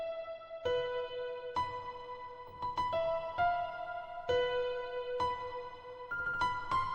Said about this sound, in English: After that, getting another piano, just have like kind of a top melody to it.